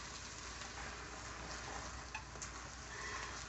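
Corn meal sauce (amboge) being stirred in a pot with garlic added, a steady soft sizzling, scraping stir heard close and alone throughout.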